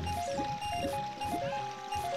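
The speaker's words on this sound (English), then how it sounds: "Always weirded me out how the water sound gets really high pitched there." Water flows with a bubbling, high-pitched trickling and gurgling in The Legend of Zelda: Ocarina of Time, steady and continuous beneath sustained game tones.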